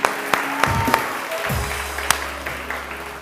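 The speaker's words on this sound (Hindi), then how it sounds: "उरूज के लिए भी बहुत सारी तालियां बजाइए जी।" Clapping from the studio audience of a TV morning show, steady applause with a few sharper individual claps standing out, nearby and moderately loud.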